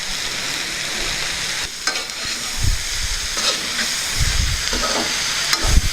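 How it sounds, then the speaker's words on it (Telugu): Peanuts drop into a hot pan for a pudina cabbage curry and fry with a steady, close sizzle, with stirring scrapes and bursts of crackle throughout. "ఈ యొక్క పల్లీలను యాడ్ చేస్తున్నామండి"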